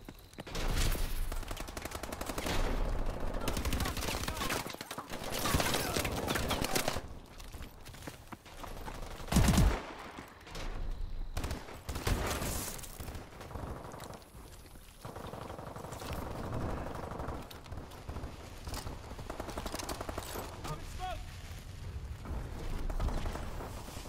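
Covering gunfire in the video game Call of Duty Advanced Warfare rattles in sustained automatic bursts with a heavy blast near the middle, loud and continuous over the battle din.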